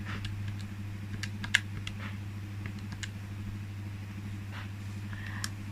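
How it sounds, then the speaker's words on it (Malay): Calculator buttons pressed during a secondary-school maths lesson, a series of light, irregular clicks close by over a steady low electrical hum. "Jadi cuba tekan kalkulator."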